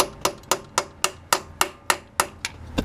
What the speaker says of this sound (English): just gently tap it in, don't put any major force onto it because you don't want to deform it